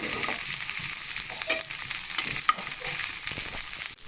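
Small-cut green chillies fry in a pan, giving a loud, steady close-up sizzle with occasional stirring scrapes and no talking.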